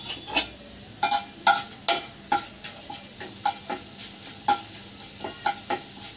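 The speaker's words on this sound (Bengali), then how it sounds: "এবার আমি ওই তেলের মধ্যে দিয়ে দেবো 1 চামচ সরষের ফোড়ন।" Mustard seeds and chana dal frying in hot oil, with sharp irregular pops and crackles and light stirring scrapes over a soft, steady sizzle.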